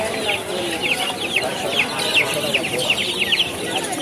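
Fayoumi chickens and chicks cluck and cheep continuously at a busy poultry market in Mirpur, Dhaka, a dense chorus of chirps and clucks close by, with crowd voices murmuring underneath.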